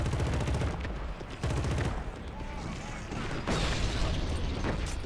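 Gunfire and explosions in the sci-fi shooter Killzone: Shadow Fall, a dense continuous wash of shots, booms and rumbling battle noise, loud and busy, with a voice briefly heard over it.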